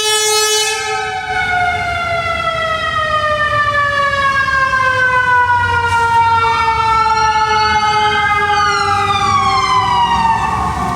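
Emergency vehicle sirens pass close by on a loud street, wailing and sweeping up and down in pitch continuously for about eleven seconds over steady traffic rumble, with several overlapping siren tones.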